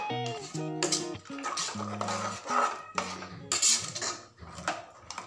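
A spoon scraping and clinking against a metal pot while kurma ingredients are mixed together, with a run of irregular close metallic clanks and rattles and no talking.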